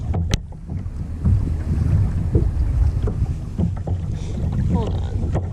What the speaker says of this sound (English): The wind wants to take me this way.